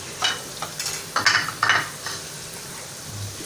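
Onions and masala stirred and fried in a pan, with a sizzling bed under several bursts of spatula scraping and clinks against the metal.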